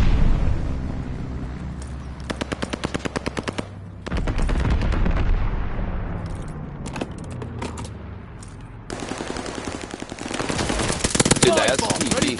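Wartime game combat from Call of Duty: Vanguard, with repeated rapid machine-gun bursts and heavy low booms from a bombing run rolling through the clip, loud and dense, with some voices mixed in.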